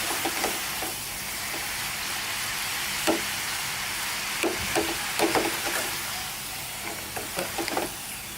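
Egg noodles for Kao Soi fry in hot oil with a steady hiss, broken by scattered crackles and soft clinks of utensils.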